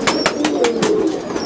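A Kasuri Teddy cross pigeon coos close by in a quick run of about six soft, rhythmic pulses, alone without speech.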